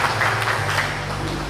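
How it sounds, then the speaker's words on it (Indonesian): An audience at an event applauds in a brief burst of dense, steady clapping that stays loud throughout, with a low hum underneath. "Tepuk tangan untuk para 9 crown yang lain Bapak Ibu."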